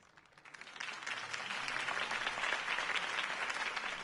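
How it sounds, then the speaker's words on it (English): Crowd applause in Batman: The Telltale Series swells up quickly after a campaign speech and holds as a dense, steady wash of clapping from many hands. "could have heard that applause"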